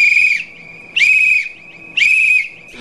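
Shrill safety whistle blown in three evenly spaced blasts, each about half a second long, loud and close with nothing else around it.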